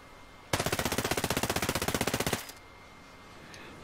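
A suppressed rifle fires full auto in Ghost Recon Breakpoint, a single loud sustained burst of about twenty evenly spaced rapid shots lasting roughly two seconds, then quiet.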